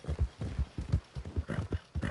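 Clip-clop of a horse's hooves in the Red Dead Redemption 2 video game, a steady rhythmic trot heard close and moderately loud, with no talking.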